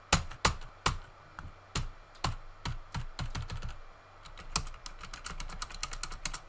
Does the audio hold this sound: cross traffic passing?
no